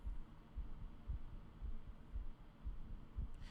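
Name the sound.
heartbeat sound in the video game Myst III: Exile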